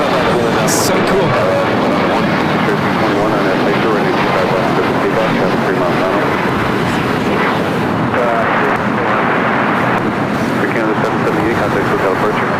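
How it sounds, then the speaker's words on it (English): Airbus A380 taking off at LAX, a loud, sustained broadband roar of jet engines lasting throughout without letting up, filling the scene with dense rumble and hiss. "back-to-back takeoffs of the two A380s, Green Air and Asiana"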